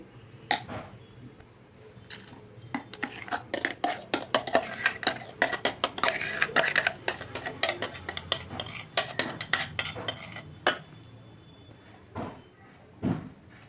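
Coarsely ground mixture is scooped out of a mixer jar into a vessel with a spoon, giving rapid, repeated metallic scrapes and clinks that thin out toward the end.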